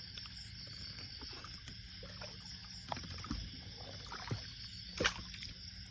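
Quiet water ambience with soft paddle splashes and occasional sloshing knocks of a small banana-trunk raft moving across open water, plus a faint steady hiss.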